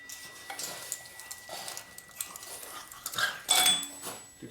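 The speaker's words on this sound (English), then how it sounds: "Dogs always like to play." A dog plays close by in a garage where a 2004 Harley-Davidson twin cam touring bike is being rebuilt, with small thumps, scuffles and a few clinks of metal, quiet and irregular, with a louder scrabble near the end.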